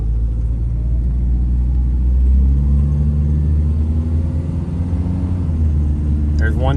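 A Chevrolet Cavalier with a noisy hatch drives up a street, its engine a close low rumble that swells as it pulls and then eases, while a person speaks over it.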